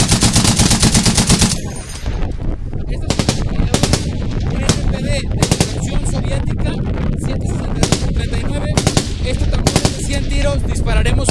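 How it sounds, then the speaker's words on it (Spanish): A Browning M2 .50 caliber heavy machine gun fires at an outdoor shooting event in Arizona, loud close rapid bursts of heavy booming shots with echoing reports, with a voice talking over the gunfire. "Vamos a disparar ahora la vieja M2. Es una ametralladora antimaterial, antipersonal, antivehículos"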